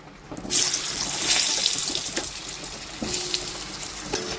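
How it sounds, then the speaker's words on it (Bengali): Potatoes frying in the oil left over from frying bata and pomfret fish, a loud steady crackling sizzle with a few sharp clinks of a utensil against the pan, no voices. "এইবারে এই মাছের তেলের মধ্যে আমি আলু ভেজে নেব।"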